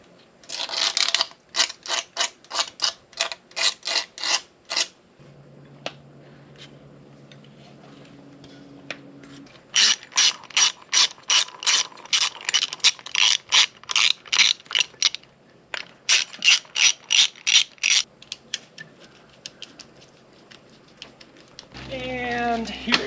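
A ratchet tightens a fitting on a new aluminum radiator in a GMC motorhome, giving bursts of rapid clicking strokes separated by pauses, with brief speech in between.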